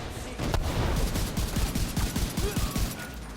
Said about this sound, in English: One of the reasons I like The Division is because the shooting is just really tight.